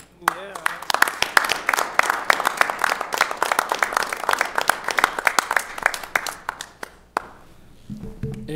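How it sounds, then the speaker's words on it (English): Sustained round of applause fills a City of Auburn, Maine council meeting room: dense, steady clapping from a crowd for several seconds that stops abruptly, then a voice begins speaking at the end. "come forward and give you a round of applause"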